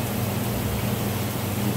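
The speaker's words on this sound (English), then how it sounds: "Now it's filling from the bottom and spraying." A Bettcher solvent bench tank fills with water from the bottom while its spray bars spray, giving a loud, steady, dense hiss and rush of water with a low, constant hum beneath.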